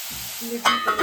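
Vegetables sizzle and fry in a pan for white sauce pasta while being stirred, with a soft scraping stir and a louder burst of sizzling partway through, close and without talk.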